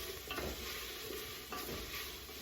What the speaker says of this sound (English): we really only want to saute that garlic for about a minute